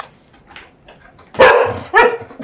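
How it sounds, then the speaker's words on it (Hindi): A dog barks twice in quick succession, fairly close and loud, after a few faint muffled sounds, with no talking over it. "तू क्यों भौंक रहा है भाई?"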